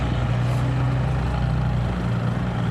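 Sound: truck engine revving hard climbing a hill

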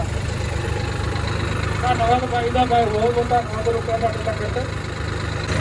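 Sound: tractor engine idling

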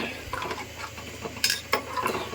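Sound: stirring mint into frying mutton biryani masala

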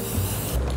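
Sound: spray paint can spraying

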